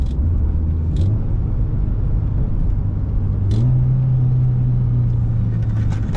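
A Mitsubishi Lancer Evolution X fitted with a test pipe downshifts on the road, its engine droning steadily with a rise in pitch midway, and faint crackles pop from the exhaust over the cabin rumble. No one talks.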